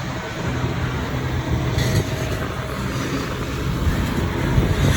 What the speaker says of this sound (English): This is a heavy train here.